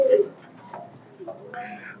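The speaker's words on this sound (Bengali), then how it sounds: "কবুতরটা হচ্ছে এই যে ব্ল্যাক কালারের একটা গিরিবাজ কবুতর" A black Giribaj pigeon gives a short, soft coo, heard close and faint in a quiet setting, with a brief murmur of voice near the end.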